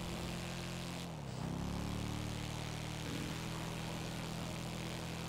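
A steady propeller plane engine drones continuously in GTA Online, loud and close, with a brief pitch dip as the engine note shifts, and no talk over it.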